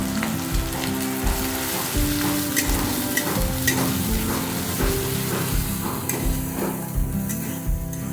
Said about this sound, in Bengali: এবার মশলাটা দিয়ে দেবো দিয়ে ভালো করে মিশিয়ে দেবো